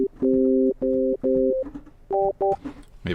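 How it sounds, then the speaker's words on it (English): Piercing synthetic sine-wave tones play stacked power chords, several short held bursts in a choppy rhythm with quiet gaps between them. "Maybe I should play a different instrument that isn't just a piercing tone, a piercing sine wave"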